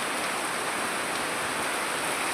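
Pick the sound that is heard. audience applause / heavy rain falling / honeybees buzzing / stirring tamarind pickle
heavy rain falling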